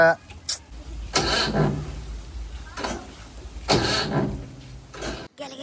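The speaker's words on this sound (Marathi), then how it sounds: "आता ट्रॅक्टर उठत नाही त्याला" A tractor engine with a weak battery cranks in three or four short, labored bursts without catching, with pauses between attempts and talking nearby.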